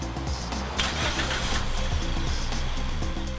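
A 2014 Mazda6 with a 2.5-liter four-cylinder gasoline engine runs steadily at a low hum, with a constant rumble and faint higher whine, no voices.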